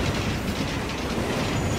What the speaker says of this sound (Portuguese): Ó, um outro trem.